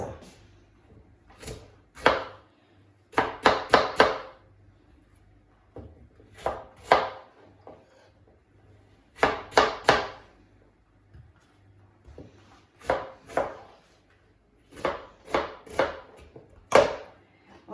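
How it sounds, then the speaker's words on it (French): A knife chops food into small cubes on a board while baking an apple and dried-fruit cake, sharp taps arriving in quick clusters of three to five with short pauses between, close and fairly quiet. "Je vais couper un petit morceau, carreau"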